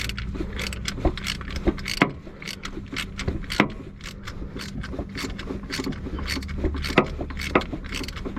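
A short ratchet works a spark plug loose from the alloy cylinder head of a Mazda Bravo B4000, giving a run of quick metallic clicks and scrapes repeated through the clip over a low steady hum.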